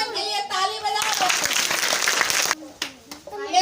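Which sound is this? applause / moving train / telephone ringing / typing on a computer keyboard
applause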